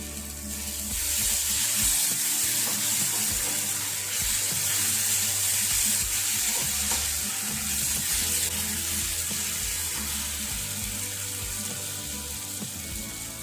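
Mushroom curry simmering in oil in a pan gives a loud, steady sizzle and bubbling hiss that runs unbroken throughout, with no voices over it.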